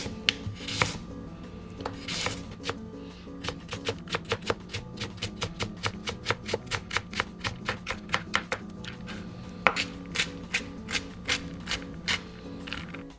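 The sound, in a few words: knife finely chopping carrot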